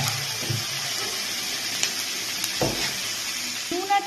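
Onions and capsicum frying in a pan for dry chilli chicken give a steady, moderately loud hiss and sizzle throughout, with a few soft knocks and scrapes near the end.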